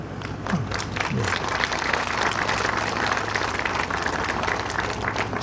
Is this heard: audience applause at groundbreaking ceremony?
yes